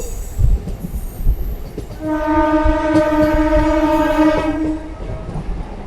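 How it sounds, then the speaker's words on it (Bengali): Katwa–Barddhaman local train pulling into Barddhaman Junction, its horn blaring a steady, loud multi-tone blast for about three seconds over rumbling wheels and track noise. "কাটোয়া বর্ধমান লোকাল এই মুহূর্তে তার last rail station Bardhaman junction ঢুকছে"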